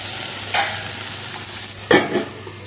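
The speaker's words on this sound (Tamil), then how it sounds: "சிம்லேயே கொஞ்சம் நேரம் வேகட்டும்." Tomato masala for drumstick kootu cooking on a low flame, a soft continuous sizzle broken by two distinct stirring scrapes of a spoon in the pan.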